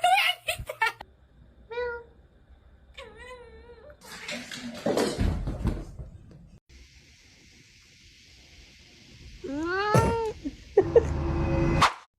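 An orange cat gives a string of loud, drawn-out meows and whiny cries up close, some rising and wavering, with pauses and background rustling in between.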